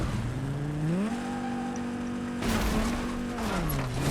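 Car engine in the Fortnite video game, a steady hum that rises in pitch as it speeds up, holds, then falls, with a rougher scraping burst near the end.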